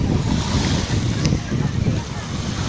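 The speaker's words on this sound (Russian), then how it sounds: "Очень шумно, но это же пляж, правильно?" Sea surf washes steadily onto a crowded summer beach at Arcadia, a dense roar of waves blended with indistinct chatter from the many people nearby.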